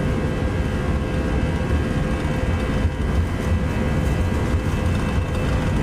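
A Toliss Airbus A319 in X-Plane 12 rolls down the runway at takeoff power, a dense, steady roar of engine and rumble that stays constant and loud throughout, with no speech.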